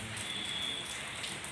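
Steady rain falls outdoors during a Laxmi puja gathering, a constant dense hiss without a break, with no voices standing out.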